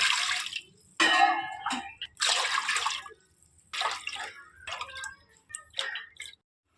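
Water poured for cooking rice, ten cups measured in for two cups of grain, coming in a series of short splashing bursts separated by brief pauses, close and fairly quiet.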